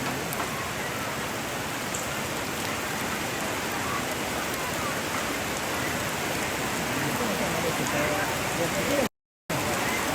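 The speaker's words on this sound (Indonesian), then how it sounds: "Hujan deras guys." Heavy rain pours steadily as a dense, loud, continuous hiss, broken only by a brief gap near the end, with no voices heard.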